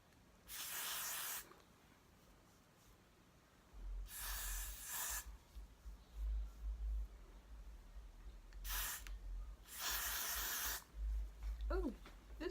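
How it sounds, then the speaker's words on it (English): Four separate bursts of cold aerosol glue spray on a lace closure wig hiss, each a second or so long, with low handling thumps and rustling between them. "I'm about to use this Got to Be glue spray."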